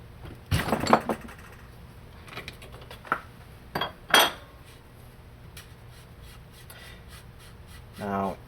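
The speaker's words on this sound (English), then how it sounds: "take our stock buffer tube, lock ring wrench, make sure we're locked down" Metal lock ring wrench working a rifle stock buffer tube lock ring, giving a few close scraping clicks and sharp metallic ticks in quiet pauses, with a brief rougher rasp near the end.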